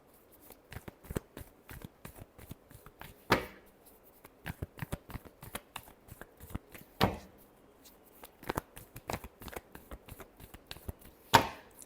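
Tarot cards are shuffled by hand in repeated quick bursts of soft riffling and slapping, with a few louder snaps spaced throughout and no talking.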